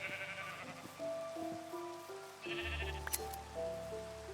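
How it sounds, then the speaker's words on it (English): Sheep in the Minecraft video game bleat several times in a row, clear and fairly close, with synthetic game tones and chimes layered underneath and no talking. "Where's the sheep? There's a sheep."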